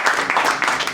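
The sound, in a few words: applause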